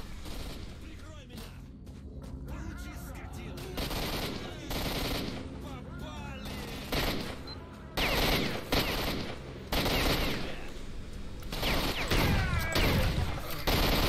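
Dense, loud gunfire bursts in the video game S.T.A.L.K.E.R. Shadow of Chernobyl, shotgun blasts and rapid shots clustering in several volleys amid chaotic combat noise, with voices speaking in between.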